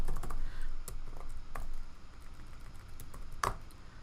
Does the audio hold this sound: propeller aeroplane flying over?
no